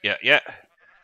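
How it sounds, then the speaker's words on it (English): Two quick sheep bleats from Minecraft, close and loud, the second slightly longer, followed by a faint fading tail. "red sheep on the roof"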